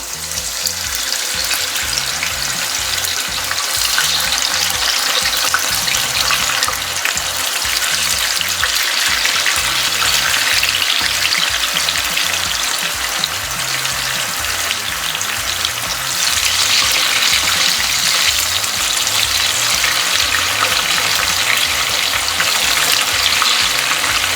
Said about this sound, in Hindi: अब हम इसमें एक एक करके चिकन के पीसेस डाल लेंगे।